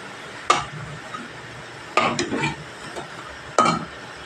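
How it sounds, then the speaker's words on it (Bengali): Coriander leaf pakoras frying in oil, with a steady hiss underneath and three sharp scrapes or clinks of a utensil stirring in the pan, close and without talk. "ঠিক একদম এইভাবেই ভাজতে হবে ধনেপাতার পকোড়া বা বড়া।"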